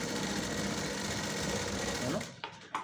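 A sewing machine runs steadily while stitching lining onto the front part of a garment, its continuous whirr holding for about two seconds before stopping, with a few short bursts after.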